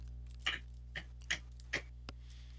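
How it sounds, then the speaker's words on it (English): Keys on a computer keyboard are tapped, giving a few sparse, separate clicks spaced about half a second apart, quiet and close over a faint steady hum with no speech. "Oh, you typing."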